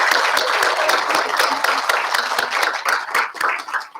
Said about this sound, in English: let's give these ladies a round of applause for all their hard work